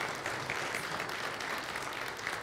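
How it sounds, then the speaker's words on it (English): A church audience applauds a group of Scouts, giving a soft, distant wash of many hands clapping at a fairly even level throughout. "Give them a hand clap of praise."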